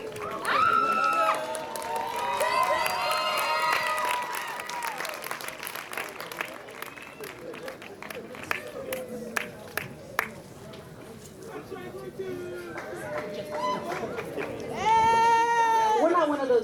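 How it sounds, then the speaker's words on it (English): Applause and cheering from a graduation crowd, steady clapping with whoops rising through the whole stretch and swelling again near the end, loud and close with scattered shouts. "You go ahead and clap and cheer for your graduates."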